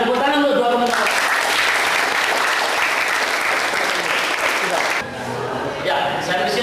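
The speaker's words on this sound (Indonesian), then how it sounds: "tepuk tangan untuk dua komentar." A school class of students in an Indonesian language lesson claps together, a loud burst of hand claps that holds steady, then dips briefly near the end before picking up again.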